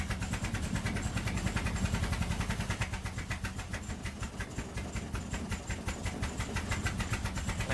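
A barn-find Triumph Spitfire engine idles roughly just after its first start in 43 years, a loud, close, uneven pulsing chug that surges and sags as the throttle is pumped.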